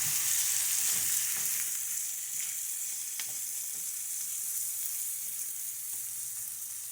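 Seasoned corn sizzles in a pan with softened onions, a steady bright hiss close by with occasional stirring clicks and scrapes, no voices.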